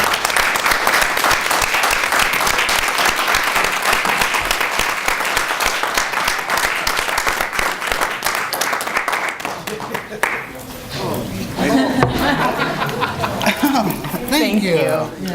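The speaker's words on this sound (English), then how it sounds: "If you guys wouldn't mind joining me in giving these good people a round of applause." Audience at a school board meeting gives a sustained round of applause, dense and loud for about ten seconds before thinning out, with voices and thank-yous rising as the clapping fades.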